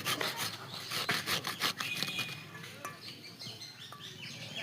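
A mango is grated by hand, making rhythmic raspy scraping strokes at close range. The strokes come quickly and evenly at first, then turn lighter and more scattered, with small chirps in the background.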